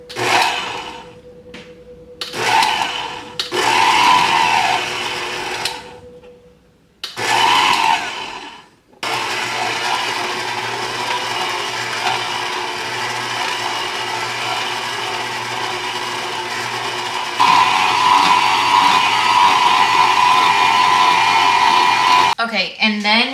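Electric hand mixer beating cake frosting with powdered sugar, a loud whirring drone that stops and restarts several times before running steadily at a higher speed, close by.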